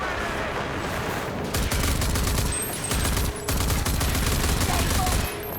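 Rapid video game gunfire from mouse-held shooting, sounding as dense bursts of automatic fire in several rolling volleys with brief gaps, loud and close, with some voice sounds mixed in.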